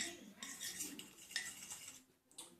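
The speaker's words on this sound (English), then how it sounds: "And I stir that until all the clumps are out." Thick, milky coconut oil deodorant mixture being stirred in a container, giving close scraping and clinking strokes in an uneven rhythm with no talking.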